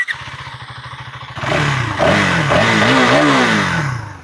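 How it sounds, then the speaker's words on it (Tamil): A 400cc single-cylinder adventure motorcycle engine idles with a rapid, thumping exhaust beat, then revs hard and rises in pitch, loud and close. "ஸ்டார்டிங்கில் எக்ஸாஸ்ட் நோட் கேட்டோம் இப்பயும் கேட்போம்"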